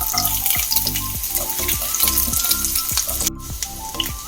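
Chopped ginger and garlic fry in hot oil with fenugreek seeds for a Kerala-style curry, giving a close, steady crackling sizzle over rhythmic scraping and stirring, with a brief drop in the noise partway through.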